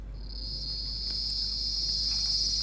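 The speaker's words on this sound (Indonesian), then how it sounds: "Suara mereka semakin keras." Crickets trill in a continuous high, steady chorus on a summer night in Japan, close and fairly loud, growing slightly stronger over a low background hum, with no voices.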